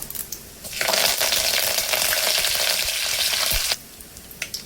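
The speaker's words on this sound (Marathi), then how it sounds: "अर्धा चमचा मोहरी, अर्धा चमचा जिरा, कढीपत्ता," Mustard seeds, cumin and curry leaves hit hot oil with a loud burst of crackling sizzle that holds steady for about three seconds, then cuts off abruptly, leaving faint clinks behind.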